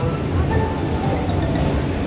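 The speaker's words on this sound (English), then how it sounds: "I love the trams here in Switzerland" Tram rolling along a street in Switzerland, a steady rumbling rail noise with faint repeated clicks, heard close and continuous with no talk.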